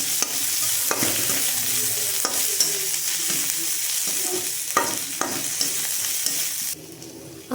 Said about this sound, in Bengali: আদা বাটাটা দিয়ে একটু নাড়াচাড়া করে নেব।